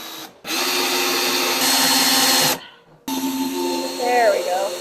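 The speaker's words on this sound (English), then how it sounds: "take your other drill and drill the hole first, all the way through" Power drill boring a hole all the way through a cabinet during a cabinet install, whining steadily for about two seconds, pausing, then spinning up again with a short burst of higher-pitched squealing near the end.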